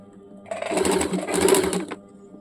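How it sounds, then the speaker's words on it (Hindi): A sewing machine runs a quick single line of stitching around the curved hem of a baby umbrella frock, one steady mechanical burst of about a second and a half in a quiet room. "इस प्रकार से पूरा को गोलाई घुमाते हुए पहले सिंगल सिलाई डाल देंगे"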